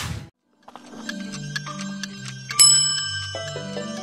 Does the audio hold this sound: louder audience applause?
no